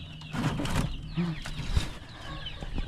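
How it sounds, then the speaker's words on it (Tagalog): Chicks peep and cheep inside a balikbayan box, with busy overlapping calls and faint clucking-like sounds throughout, fairly close, and no talking. "Yung mga sisiyo natin, ito sila ngayon dito guys sa loob ng balikbayan box."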